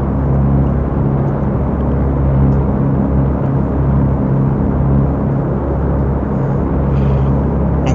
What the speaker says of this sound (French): Voilà, deuxième moteur démarré.